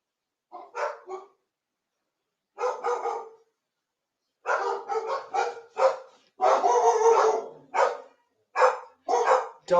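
Several dogs bark close by in repeated bursts, with a few short yips early on and then a fast, overlapping flurry of loud barks, and no one speaks over them.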